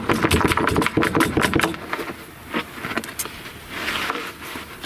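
A rifle fitted with a generic scout scope, sitting on a piece of carpet over plywood, is shaken. It gives loud, fast, irregular rattling and jostling, heaviest at the start and then easing into intermittent bumps and shuffles.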